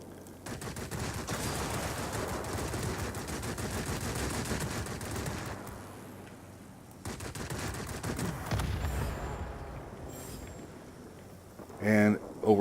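Long bursts of rapid machine-gun fire from the F4U-4 Corsair's guns in World of Warplanes, two sustained volleys with a brief pause between, mixed with engine drone and a voice talking over it.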